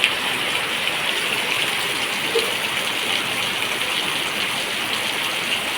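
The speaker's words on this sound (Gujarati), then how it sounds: "કેવો વરસાદ છે જો અહીંયા" Heavy rain pours steadily over a village, a dense, continuous hiss that stays loud and even from start to finish with no voices.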